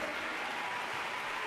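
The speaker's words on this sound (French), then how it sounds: "vos applaudissements pour" Steady, dense audience applause in a concert hall at a Sainte-Justine benefit choir concert, continuous and fairly close throughout the brief stretch.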